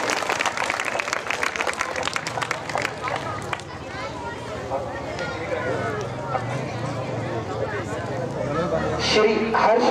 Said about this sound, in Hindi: कृपया तालियों से इनका सम्मान करें।